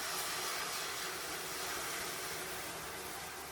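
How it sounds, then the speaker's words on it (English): A steady, broadband hiss and bubbling rush from hot cream boiling in a pot, continuous and close, with no talking. "See, it's still boiling."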